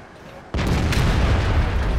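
High-explosive shell from a Maus tank strikes in World of Tanks: a sudden, loud, close impact boom bursts in after a quiet half second, then sustains as a heavy rumbling roar to the end.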